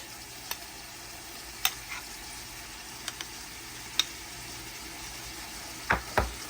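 Chicken pieces browning in a pan for a home-style chicken curry give a steady, quiet sizzle, with occasional sharp spatters and pops cutting through. No one speaks.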